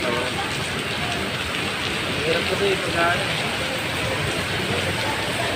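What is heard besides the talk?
heavy rain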